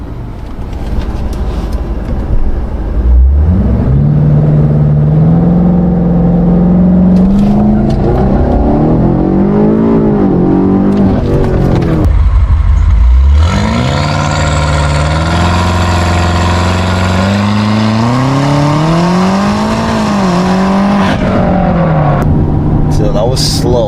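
Tuned 700+ all-wheel horsepower BMW F90 M5 making drag launches, engine idling then revving hard through rising gear pulls with loud climbing drone and shifts, close and powerful, with talk at times over it.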